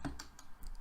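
Quick keystrokes on a computer keyboard, a few sharp clicks in irregular rhythm, close and fairly quiet with no talking.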